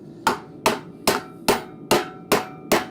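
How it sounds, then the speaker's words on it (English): A blacksmith's rounding hammer strikes steel in a forge, seven sharp, ringing blows at an even, brisk rhythm, close and clear with no talking. "I find my rounding hammer does more than enough job at it, and it doesn't really mess up too much of the steel"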